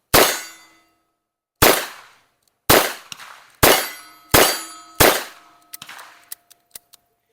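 A revolver fired at a shooting range: five loud, sharp shots spaced about a second apart, each with a ringing decay, then several lighter metallic clicks and clinks.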